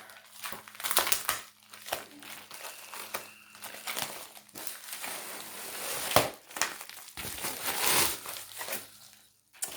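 A packaged blind box of craft products being opened close up, with crinkling plastic, tearing and rustling packaging in irregular bursts, fairly quiet throughout.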